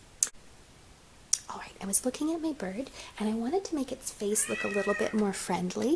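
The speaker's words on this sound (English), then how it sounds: "That's my cat" A cat meows softly a few times, close by, mixed in with a person talking steadily over it.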